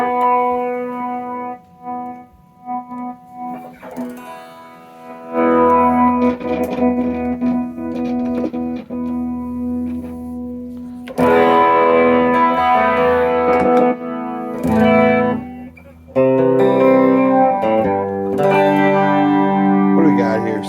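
Electric guitar through a Boss chorus pedal with a little overdrive added, shimmering chords and single notes with warbling modulation, loud and close, broken by pauses and short bursts of playing.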